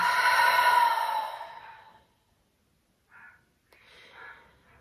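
A long, deep exhale fades out over about two seconds during a breathing exercise, followed by a couple of softer, brief breath sounds after a short silence.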